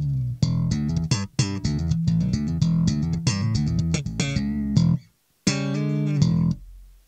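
A Stagg Stingray bass guitar played through an SWR amp model on an old POD, with a series of plucked, ringing notes in a groove that break off into a brief silence before a final sustained note.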